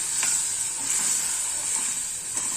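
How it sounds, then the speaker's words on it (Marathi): A constant bubbling, hissing simmer of a coconut curry boiling in a pot, steady and fairly quiet throughout. "चांगली उकळी मारून घेऊया"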